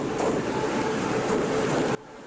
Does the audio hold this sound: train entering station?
yes